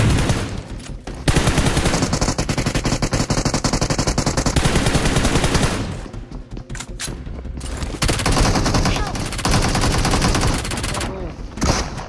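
Loud, sustained automatic gunfire in PUBG Mobile, rapid bursts rattling almost without a break across the whole stretch, with brief lulls between volleys.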